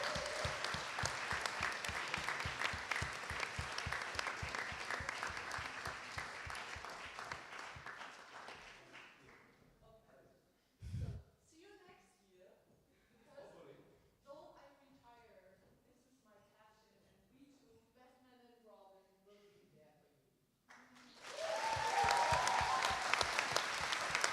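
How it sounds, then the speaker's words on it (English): A closing-ceremony audience at a Model UN conference claps in a dense, loud burst that fades out, a speaker talks in between, then a second round of applause breaks out strongly at the end. "Let's give them all a round of applause."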